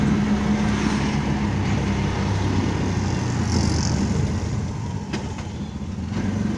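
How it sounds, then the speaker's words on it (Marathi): An auto rickshaw drives along a road with its engine putting out a steady, loud drone and broad road rumble that continues throughout, easing slightly near the end. "रिक्षाने आम्ही चाललोय खूप घाईमध्ये"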